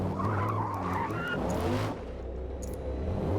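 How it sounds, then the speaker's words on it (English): A race car in a GT race at Daytona in a racing video game skids with loud screeching tires, then the sound thins out in a short crash tail. Engine noise runs underneath, with no voices. "Indoctro's just had a crash!"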